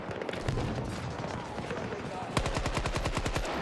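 A prototype weapon fires in Battlefield 2042, loud rapid automatic bursts with a tight, fast rhythm that grows denser toward the end, with a player talking over the gunfire.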